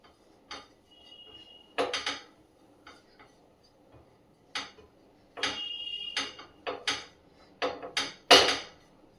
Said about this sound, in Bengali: তাই জন্য এটা একটুখানি নেড়ে রাখছি